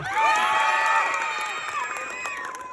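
A fiesta crowd in Barangay Tabon, Philippines, cheers and yells loudly together, voices overlapping in long sustained shouts with some clapping beneath, for about three seconds.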